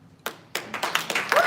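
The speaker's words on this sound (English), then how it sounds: "Can you applaud her?" A conference audience in a hotel venue starts clapping, a few sharp claps first, then building into fuller scattered applause over a second or so.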